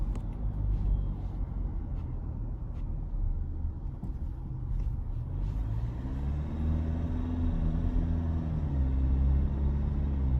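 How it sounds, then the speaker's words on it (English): A diesel Ford Everest XLT SUV (2025) drones along while driving, a low steady engine rumble from inside the cabin that rises slightly in pitch toward the end as it pulls, with no talking. "I could listen to that diesel grunt all day long."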